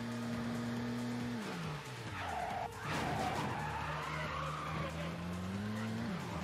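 A racing car in Midnight Club 2 holds a steady engine drone, then a tire squeal cuts in as it skids through a turn before the engine climbs again and the pitch rises, loud and continuous.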